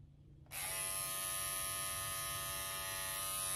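A Philips OneBlade electric trimmer switches on after a quiet moment and buzzes steadily with a bright, high whine while trimming a stray hair, close and alone with no talk.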